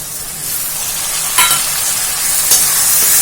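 Tomatoes tipped into a pan of frying onions give a steady broadband sizzle, with two short louder bursts as the pieces are stirred; no voices.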